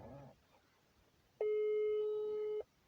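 A telephone call tone sounds while the line waits for pickup. A single steady electronic tone lasts a little over a second, after a brief faint voice at the start.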